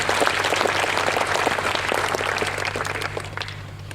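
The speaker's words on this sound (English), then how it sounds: "Can you join me to give a big round of applause to our graduates," A round of applause for graduates at a ceremony, a dense crowd of many hands clapping steadily and fairly near, tapering slightly toward the end, over a low steady hum.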